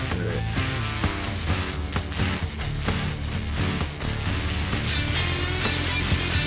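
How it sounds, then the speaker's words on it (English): A red Scotch-Brite pad buffs bluing off the exhaust of a 2009 Harley-Davidson Dyna, producing a loud, continuous close-up scrubbing and rubbing with steady back-and-forth strokes. "I'm just going to use some of this red Scotch-Brite and buff off this bluing with it."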